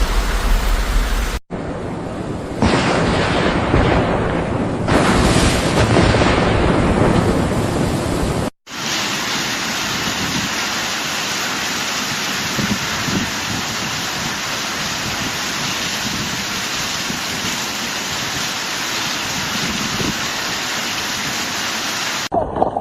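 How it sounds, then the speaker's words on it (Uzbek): Heavy rain pours steadily during a storm flood in Uzbekistan, a dense continuous roar of water that runs nearly unbroken, loud and close, with a brief cut partway through and no talking. "Suvni qaranglar, yomg'ir."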